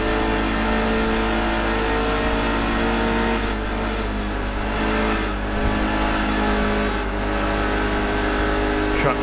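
Race car engine in NASCAR Heat 2 droning steadily and loudly throughout, with continuous engine tone and slight rises and dips in pitch as the car runs hard through the corners.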